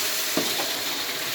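Tomatoes and green chillies sizzle as they are tipped into mutton frying in a pan, making a steady close hiss with a brief stirring scrape partway through, and no voices.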